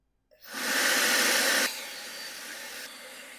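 A turbo fan leaf blower with a booster attachment spins up at about 30% speed, a steady close airy whoosh that rises quickly, holds loud, then drops to a softer sustained rush.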